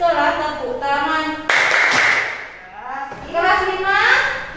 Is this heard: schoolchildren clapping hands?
yes